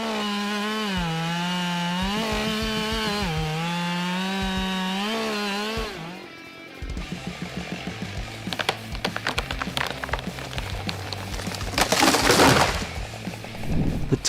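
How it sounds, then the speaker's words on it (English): A Husqvarna 572 XP chainsaw cuts through wood, opening with a steady high revving whine that gives way to choppy, rough cutting and crackling wood noise, loud and close with no speech. "This Husky 572 XP chainsaw is lightweight and portable to meet the needs of arborists"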